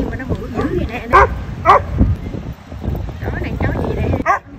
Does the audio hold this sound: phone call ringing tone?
no